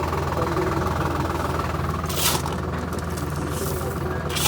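A tractor engine runs steadily on a road-building job, with a continuous low rumble and rattle that stays close and constant throughout. Brief hissy bursts rise over it. There is no clear speech.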